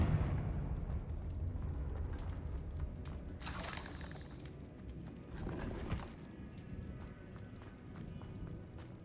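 A Confringo explosion spell cast in Hogwarts Legacy, heard as two loud, rushing blasts a couple of seconds apart over a steady rumble of game ambience.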